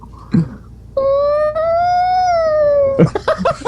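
A man imitates a whale call by voice: one long sustained, gently rising and falling moaning tone lasting about two seconds, loud and close, with brief talk and laughter before and after.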